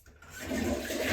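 A toilet flushes close by, a rushing swirl of water that swells quickly and keeps surging.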